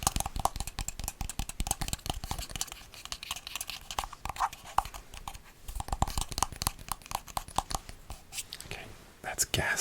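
A perfume bottle top handled up close, giving dense crinkly clicks and scrapes that run steadily under whispering.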